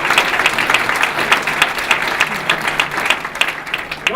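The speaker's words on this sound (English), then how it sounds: "Give them a round of applause for the police chiefs up here." Audience applause for police chiefs at a Martin Luther King Jr. unity breakfast, a dense, steady crowd clapping that fills the whole stretch at a loud, even level.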